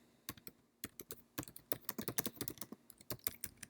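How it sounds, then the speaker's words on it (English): Keys clacking on a computer keyboard during typing, an irregular run of sharp close clicks with short pauses between bursts, alone with no voices. "we can type in an introduction"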